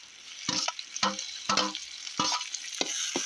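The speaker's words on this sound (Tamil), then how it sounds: "வெங்காயம் வதங்கிச்சு இப்போ வந்து தக்காளி போட்டுப்போம்" Tomatoes added to softened onions in a pan for mutton thokku, stirred in bursts: several separate scraping, sizzling strokes close by, with quieter frying between them and no voices.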